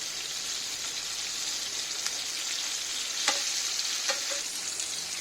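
Fish pieces and other ingredients for fish biryani frying in oil, a loud continuous sizzle close up with a few stirring scrapes and clicks over the top.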